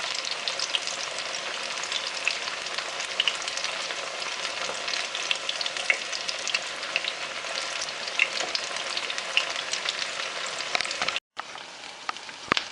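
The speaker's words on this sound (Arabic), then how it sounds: "تقلاة كباب، هاي آخر وحدة" Iraqi pan kebab, spiced with curry, turmeric, black pepper and garlic, frying in a pan with a steady, dense sizzle that runs unbroken, cut by one brief drop near the end.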